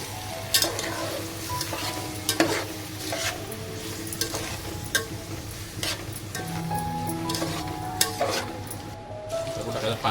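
Rice sizzles and fries in a spiced tempering for prawn biryani as a spoon stirs it, with steady frying hiss, scraping and clinks against the pan throughout.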